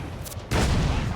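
Ship cannons firing in a pirate naval battle game, a sudden loud booming blast that cuts in and rolls on as a dense, sustained roar of gunfire.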